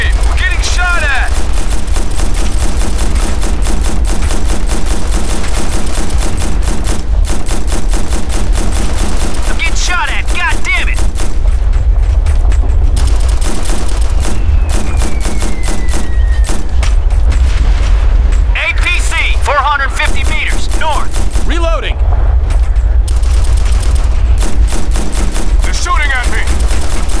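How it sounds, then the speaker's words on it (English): A firefight in Operation Flashpoint Red River, with loud, dense bursts of automatic gunfire, single shots and heavy booms rolling on without a break, while radio-style voices shout through the din in a few spots. "We're getting shot at!"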